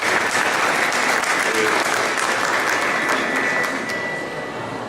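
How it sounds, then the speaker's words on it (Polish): An audience at an art academy's diploma ceremony applauds the Rector, thick continuous clapping that fills the room and fades a little toward the close. "ogromne brawa dla Pani Rektor z podziękowaniem za te podziękowania"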